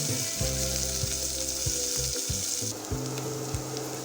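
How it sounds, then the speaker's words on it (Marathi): Cumin seeds sizzle in hot oil in a home kitchen, a bright steady frying hiss with a constant low hum underneath and a few soft clinks, close and fairly loud with no talking. "त्यामध्ये तेल तापलेलं आहे, त्याच्यामध्ये जिरे टाकते."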